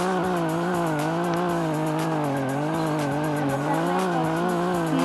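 A Chevette in a driving video game drifts with a sustained, loud tire squeal, its whine wavering steadily over a constant engine drone for the full stretch, with no talking.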